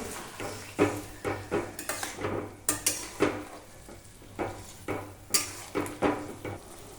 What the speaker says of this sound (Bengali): এরপর আমরা একটু জল দিয়ে দেবো যাতে গ্রেভিটা হয় দিয়ে ভালো করে নেড়ে নেবো একটু